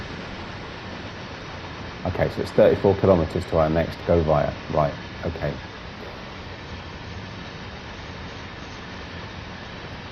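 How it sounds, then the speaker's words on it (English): A long freight train rolls past in the Train Sim World 2 game, heard as a steady, even rumble that holds for the whole stretch while someone talks over it for a few seconds. "Whoa, long old train."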